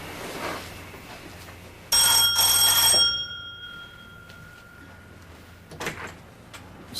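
A door opening as two people arrive at a house, heard as a sudden ringing, bell-like burst of about a second, then fading, with quieter rustles and a faint knock-like thud afterward.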